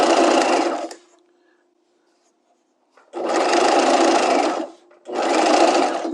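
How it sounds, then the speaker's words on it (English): Sewing machine stitching piping onto fabric: two bursts of fast, steady close-up machine whirring separated by a pause, then a shorter third burst. "I'm trying to keep that needle nice and tight against my piping as I stitch this piping onto the actual piece of fabric"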